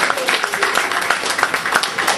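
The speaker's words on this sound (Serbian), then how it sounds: "molim vas aplauz za jedan za Slavka" An audience applauds a photographer at a photo presentation: a short, dense burst of many hands clapping at an even level throughout.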